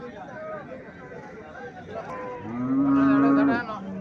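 At a cattle market, a cow gives one loud, close, drawn-out moo near the end, after quieter stretches of background chatter and market noise.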